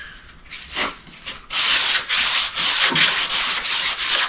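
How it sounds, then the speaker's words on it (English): Hand sanding a bathtub panel with sandpaper: a few tentative strokes, then about six loud, rhythmic back-and-forth scratchy rasps close by, with no talking. "This sandpaper is terrible. Just buy good sandpaper."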